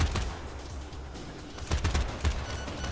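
Battle rifle gunfire in a video game: a few sharp, punchy shots cluster near the end over a steady low in-game background rumble.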